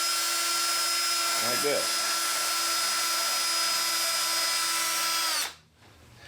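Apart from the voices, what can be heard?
carbide bit in a drill reaming out an insert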